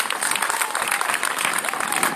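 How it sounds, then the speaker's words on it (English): Loud, close crowd applause at an outdoor rally at the Michigan State Capitol, dense and continuous for a couple of seconds, with some cheering mixed in. "Let's give him a round of applause."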